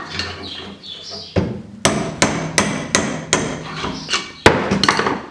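Sharp hammer taps on a seized coilover clamped in a vise, about eight distinct metallic strikes in an irregular rhythm, close and fairly loud, with no talking.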